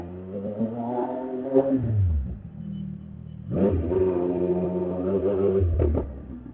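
CFMoto 675 SR-R motorcycle engine revving loudly nearby, two rising throttle blips with a rumbling idle between them.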